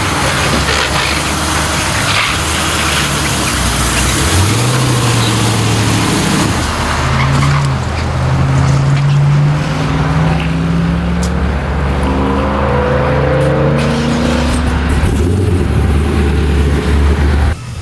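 An LS-swapped Mazda FD RX-7 drives around a shop, its V8 revving loud and close with rising and falling pitch sweeps and tire noise throughout.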